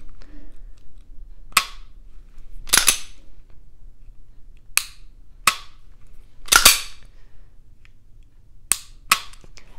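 A SIG P365 pistol's trigger is pulled and reset repeatedly on an unloaded gun, sharp close clicks and snaps at irregular intervals, some doubled, over a quiet background.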